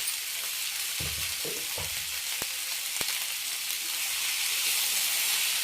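Cauliflower fry with chili powder sizzling in a pan under a steady frying hiss, with a few close scraping stirs near the start and two sharp taps of the spoon on the pan.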